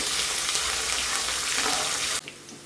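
Green chillies and curry leaves crisp up in hot oil, a dense, close sizzle that holds steady for about two seconds before dropping away sharply to a quieter hiss.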